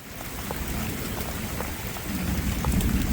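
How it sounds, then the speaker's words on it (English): Heavy rain on a ridge-line homestead in the Missouri Ozarks, a dense, steady roar of drops that builds slightly louder toward the end, with no voices. "we definitely got the rain"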